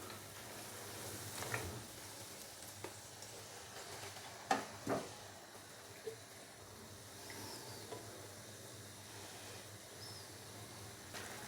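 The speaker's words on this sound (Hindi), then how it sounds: "अभी हम इसके अंदर मैरिनेट किया हुआ चिकन डालेंगे" Marinated chicken dropped into a pan of fried onions, giving a soft, steady sizzling hiss with occasional clicks and scrapes of stirring, faint and close, with no voices.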